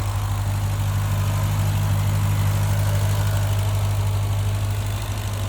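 A 2023 Dodge Durango SRT Hellcat's 6.2-liter supercharged Hemi V8 idles close by with a deep, steady low rumble and constant hum, loud and even with no voices.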